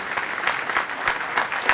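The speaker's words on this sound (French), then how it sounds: "oui, vous pouvez l'applaudir" Council members clap for Hélène Habert at a municipal installation council meeting, a steady patter of many hands filling the room without a break, loud and close, with no voices over it.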